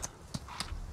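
Horse hooves clip-clop at a steady walking pace in the video game Farming Simulator 19, four soft hollow knocks spaced evenly over a faint background.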